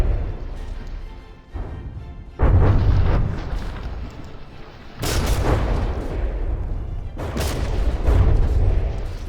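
Heavy shells striking ship armor in From the Depths, a series of loud booming impacts and blasts landing in rapid bursts over a continuous rumbling battle din.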